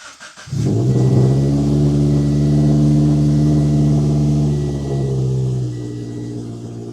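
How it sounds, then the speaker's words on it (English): A car engine cranks briefly, catches and settles into a loud, steady idle with a slight dip in revs, close by. "It is time to start the car and hope I didn't mess anything up."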